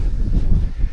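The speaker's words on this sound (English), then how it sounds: "Ooh, it's a bit breezy." Gusty wind buffets an outdoor microphone, a steady low rumble that swells and eases throughout the second with no voices present.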